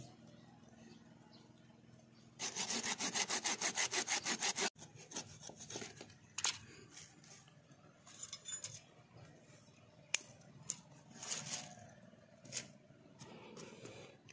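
Sawing off a branch of a big ficus microcarpa bonsai: a quick run of steady, rhythmic back-and-forth saw strokes, then scattered scraping and knocking handling noises, faint and close.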